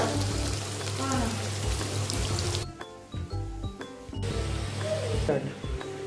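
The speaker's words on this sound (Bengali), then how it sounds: "আলুগুলো আমার ভাজা হয়ে গেছে।" Potatoes fry in oil with a steady, close sizzle and crackle that briefly thins out partway through, while a person speaks over it.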